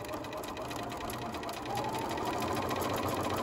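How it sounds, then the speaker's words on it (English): A sewing machine runs steadily, stitching two quilt panel fabric pieces together with a 1/4-inch presser foot and 2 mm stitch length, a close, continuous whirring hum with a fast rhythmic needle chatter and no talk. "I'm going to sew these two pieces together with my 1/4-inch seam."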